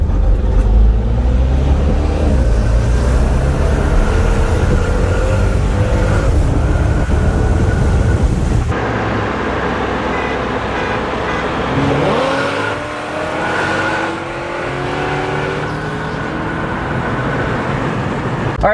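A twin turbo Lingenfelter Corvette pulls hard with a loud, steady engine roar for the first half, then drops to a quieter running drone with rising and falling tones.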